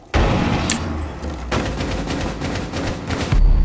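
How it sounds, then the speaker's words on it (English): Sharp blasts in Rainbow Six Siege as a grenade is thrown down through a breach: three broadband bursts, near and loud, with ongoing gunfire and rumbling between them. "Throwing grenade down."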